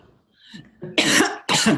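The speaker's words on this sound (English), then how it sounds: "when I cough, this is clearing, so we'll just let it clear" A soft throaty rumble leads into two loud, harsh throat-clearing coughs close to the listener, one right after the other.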